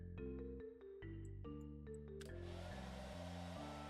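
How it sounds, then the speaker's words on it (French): Hair dryer tool blowing sand away in the beach-cleaning video game Treasure Beach, heard as a steady synthetic whoosh under a looping electronic game music track, fairly faint, with no talking. "C'est un sèche-cheveux?"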